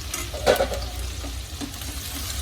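Green chillies fry and sizzle in a pan for a vegetable samosa filling, a steady crackle with a brief stirring scrape near the start, moderately quiet and with no voices.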